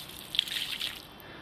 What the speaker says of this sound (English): I'm going to douse it in water.